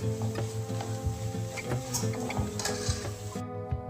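Red chilli powder and black masala stirred in hot oil for toor dal amti, with a steady sizzle under repeated close metallic taps and scrapes of a spoon against the pan, alone without talk.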